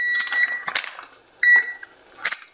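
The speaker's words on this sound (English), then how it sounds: "I had the timer on to keep my chicken in check." A kitchen timer sounds two short bursts of high electronic beeps, spaced about a second apart, near and fairly clear with light kitchen clatter around it, while chicken noodle soup cooks.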